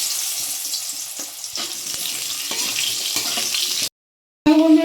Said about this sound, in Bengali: আগে আলুটা ভেজে নেব।